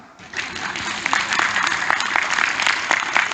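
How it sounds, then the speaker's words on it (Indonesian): An audience at an Indonesian Islamic sermon by KH. Reza Ahmad Zahid breaks into applause that swells quickly after a brief quiet start and stays dense and close, with a voice faintly audible underneath. "Silahkan tepuk tangan"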